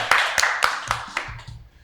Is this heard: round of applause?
yes